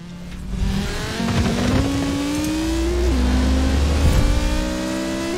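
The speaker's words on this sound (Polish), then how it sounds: "Ta Audica od niskich obrotów się wolno rozpędza, niestety, mały silnik." A small-engined Audi in Forza Horizon 4 pulls slowly up from low revs, its engine note climbing through a couple of gear changes in a steady, close drone with no talk over it.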